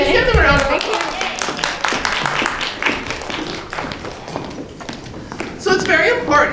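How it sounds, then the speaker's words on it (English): An audience at a women leaders' summit gives a round of applause, uneven clapping from a crowd mixed with talk and other room noise. "Give them a round of applause."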